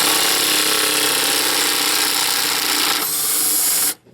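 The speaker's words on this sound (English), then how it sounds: "make sure my socket's going to stay on my impact here" An impact wrench with a 15mm socket hammers loud and close on a torque strut mount bolt of a Buick Enclave, a continuous rattling buzz that cuts off abruptly near the end.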